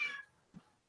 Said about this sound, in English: Pardon the cats.